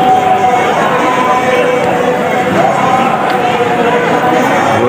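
A large crowd at the Ajmer dargah on a Thursday night fills the air with a dense, steady hubbub of many voices and footsteps, loud and continuous with no break.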